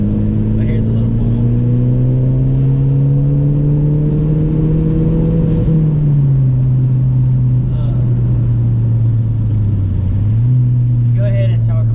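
Tuned Mazdaspeed 3 or Focus ST with a stage 3 tune making about 290 wheel horsepower, pulling hard: a loud, close engine drone climbing steadily in pitch through a gear, a brief dip at a shift, then rising again.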